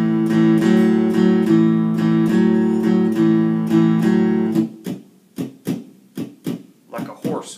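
Guitar plays an A5 blues shuffle pattern in a bouncy, swung rhythm of repeated low chords, then gives way to a series of sharp, separate percussive hits.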